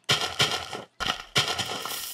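Nuke explosions in a blocky sandbox video game, several broad crunching blasts in quick succession, loud and close, the second pair following a brief gap.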